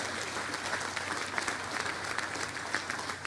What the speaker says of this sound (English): So give yourselves a great round of applause.